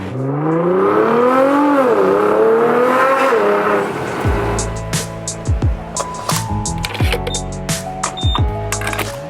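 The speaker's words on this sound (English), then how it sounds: "The sounds it makes, these turbo noises." A Nissan GT-R sports car engine revs up with a rising whine, then turbo whooshes and sharp flutter chirps pop repeatedly as the throttle lifts, loud and close.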